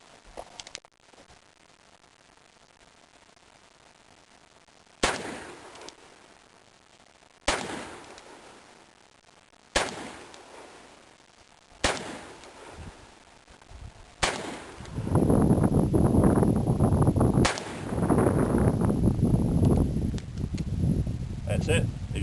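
A Colt Single Action Army revolver with a 12-inch barrel fires light 45 Colt black powder loads at a target about 30 yards off. Sharp, loud reports ring out one at a time at steady intervals, and a dense roaring noise fills the final stretch.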